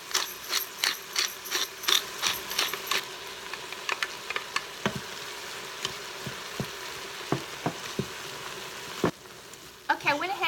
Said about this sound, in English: I'm just going to brown this up